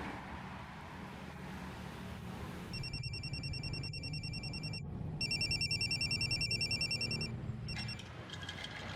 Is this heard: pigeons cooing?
no